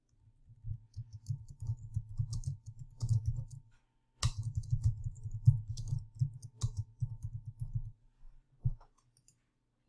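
Clicky computer keyboard keys tapped in quick, steady bursts while an address is entered, close and fairly quiet, with a brief pause midway and a few isolated key presses near the end.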